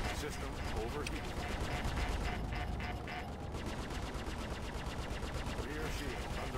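Sustained rapid gunfire pelting a spaceship's rear shield in the Star Citizen space combat game, a dense loud rattle of impacts running throughout with warning tones and alarm chatter mixed beneath.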